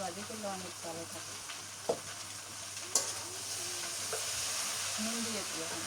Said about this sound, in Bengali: ঢেঁড়স আর আলু দিয়ে দিই এখন।